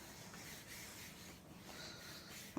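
A rag scrubs a dirty Versamat, making a continuous, quiet rubbing and scraping that stays close and even throughout.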